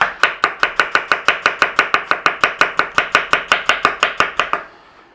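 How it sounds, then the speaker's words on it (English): A knife chops an apple into julienne strips in a fast, even rhythm of about two dozen crisp strikes on a board, close and loud, then stops abruptly. "And we want to be julienne the apple"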